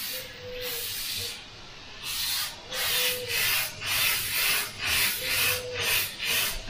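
A Badger airbrush hisses in repeated short bursts of spray, a rhythmic breathy rush with slight grainy texture from grainy paint, close up and alone.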